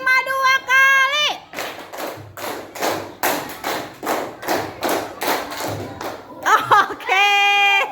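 Classroom pupils clap in unison to a five-beat rhythm, about a dozen sharp group claps in a steady pattern, framed by children's sung or chanted voices before and after.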